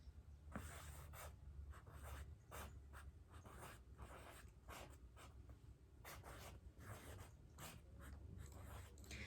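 A word being written by hand on a sheet of paper in a quiet room, with soft, close scratchy strokes in an uneven rhythm and brief pauses between them.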